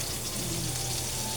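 Close, steady sizzle of ground pork frying with onions in a pan for arroz a la cubana, a dense crackling hiss that holds even for the whole moment.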